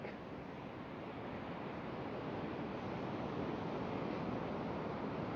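Ocean waves wash steadily onto shore in a continuous, dense roar of surf, with some wind rumble on the microphone and no voices.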